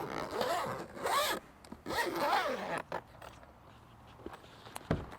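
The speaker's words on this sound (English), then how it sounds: "then we zip it all back up together" The zipper on a soft Starlink satellite dish travel case is pulled closed in three or four quick, rasping strokes. Faint handling rustles follow, with a voice heard briefly in the background.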